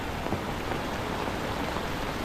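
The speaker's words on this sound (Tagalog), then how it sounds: "4 na araw na ulan ng ulan." Steady rain falls during Taiwan's rainy season as a constant, even hiss with no breaks.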